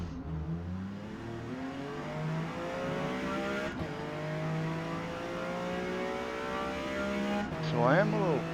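Race cars launch off the line in Forza Motorsport's D class at Indianapolis, engines rising in pitch through several gear changes, with a whooshing pass and a brief tire squeal near the end.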